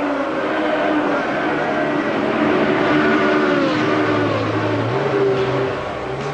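Ferrari 360 Challenge one-make race cars at a world final at Mugello, several engines howling and shifting together at high revs, loud and close, with pitch rising and falling as the pack passes, no voices.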